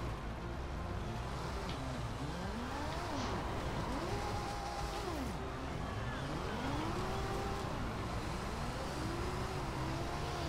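Nissan Skyline GT-R in Forza Horizon, engine note rising and falling repeatedly as the car brakes and revs, loud and continuous with no talk.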